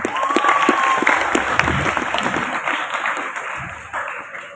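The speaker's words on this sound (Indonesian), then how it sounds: "Tepuk tangan dong buat kita semua." An audience at a school Muharram celebration event breaks into applause, a broad crowd of clapping hands that swells early and then slowly thins, with a brief whistle-like tone near the start.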